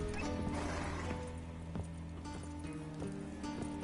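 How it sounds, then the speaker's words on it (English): Horses whinnying and stamping inside a stable in the video game The Witcher 3, a busy, dense layer of animal cries and shuffling hooves that continues steadily. "Gotta calm all the horses before they wake the guards."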